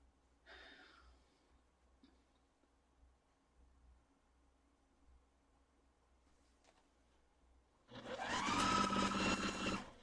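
A sewing machine runs in a loud, steady burst near the end while stitching Christmas quilt pieces together, after a quiet stretch with soft handling noises and a brief breath.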